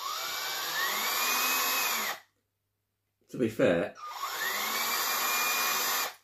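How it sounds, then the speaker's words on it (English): A power drill whines at high pitch for about two seconds while drilling an electric guitar kit body, stops, then whirs again; a brief spoken remark falls in the pause. "So, out with the drill."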